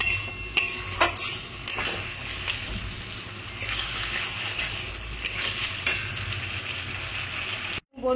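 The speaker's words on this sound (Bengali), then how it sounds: "বন্ধুরা কষাতে কষাতে মশলা থেকে তেল রিলিজ করে দিয়েছে।" Masala with Kashmiri chilli powder and a little water is sautéed in a pan, giving a continuous moderate sizzle. Spoon scrapes and clinks recur throughout, and the sound cuts out abruptly just before the end.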